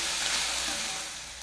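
Onion and garlic fry in lard in a pan, giving a steady, even sizzle at moderate level that stays constant throughout with no voices.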